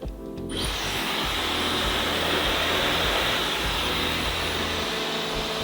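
Hair dryer blowing on short curly men's hair during styling, switching on sharply and then holding a steady loud, close rushing whoosh with a mechanical hum underneath.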